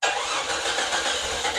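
Engine cranks and fires right away after a gas tank install, catching into a loud, steady, close-up running roar with broadband mechanical noise and no speech.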